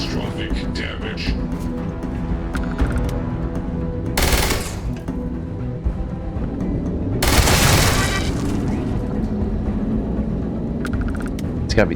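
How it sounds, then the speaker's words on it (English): Automated turrets firing aboard a ship in Starfield, with heavy gunfire and booms over a continuous mechanical rumble and two loud bursts of blasts. A voice talks over the combat. "It's gotta be turrets."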